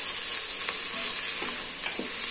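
Masala soya chunks sizzle steadily in a pan while a spoon stirs them in occasional scraping strokes, close and continuous, with no voices.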